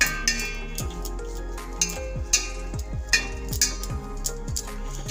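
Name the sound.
stirring and mixing sarson ka saag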